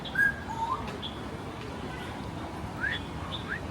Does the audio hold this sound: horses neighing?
no